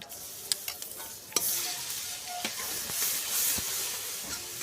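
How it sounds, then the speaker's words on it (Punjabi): Ginger garlic paste drops into a pan of tempered cumin and bursts into a loud hissing sizzle after a few clicks and clatters, then keeps crackling steadily. "ਜੀਰਾ ਤੜਕ ਗਿਆ ਫਿਰ ਪਾਵਾਂਗੇ ਇਹਦੇ ਵਿੱਚ ਆਦੇ ਤੇ ਲਸਣ ਦਾ ਪੇਸਟ 1 ਚਮਚਾ"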